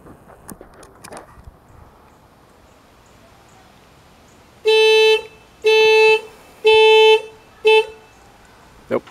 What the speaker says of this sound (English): Nope, alarm system.